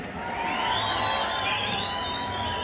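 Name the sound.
audience applause and cheering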